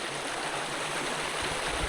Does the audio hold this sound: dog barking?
no